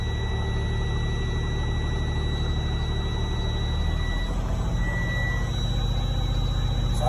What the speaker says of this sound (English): So I'm just revving the RPMs a little bit over 15, and then so it can build faster.